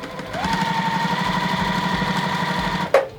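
A sewing machine stitching quilt offcut pieces together, a close, steady mechanical whir with rhythmic needle chatter that holds for nearly three seconds before stopping with a brief clunk.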